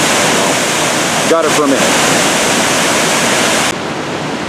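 A forest river in Umpqua National Forest rushes loudly and steadily as broadband water noise throughout, with a brief spoken phrase partway through.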